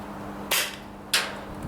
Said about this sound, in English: I'm firing from a standing, non-supported position.